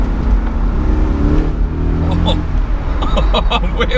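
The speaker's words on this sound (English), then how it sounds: "Wheel spin then in second." BMW Z8 on 275 tyres spinning its wheels while accelerating hard in second gear, loud engine and road roar from inside the car while someone talks over it.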